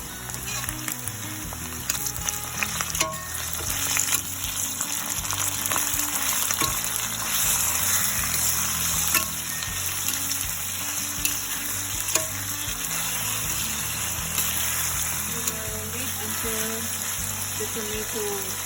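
Tomato frying in a pan with ginger garlic paste, lemongrass and pandan leaf, a steady close sizzle with scraping stirs throughout, faint background noise underneath.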